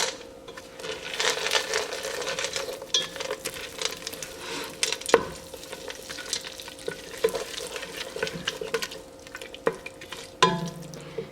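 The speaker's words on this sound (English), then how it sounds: "And you want to keep stirring that." Chocolate morsels and marshmallow melting in a pot are stirred steadily, soft scraping and light sizzling with occasional spoon clinks against the pot, quiet and close.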